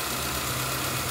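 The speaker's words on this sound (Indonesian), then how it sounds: "Ini lagi running ya, mudah-mudahan mesin juga ikut bagus, sudah tidak goyang lagi." A car engine idling after alternator service and a fuel pump replacement, a steady low mechanical hum with a faint underlying vibration, close and even throughout, without speech.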